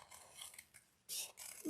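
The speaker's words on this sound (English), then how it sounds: "The scissors stay still really. They just do the cutting, and my other hand is moving the paper around the scissors." Scissors snipping through paper held in one hand while the other turns the sheet, giving a few short crisp cutting bursts close by, the last ones louder.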